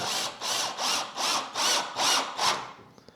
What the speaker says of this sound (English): This isn't the most powerful drill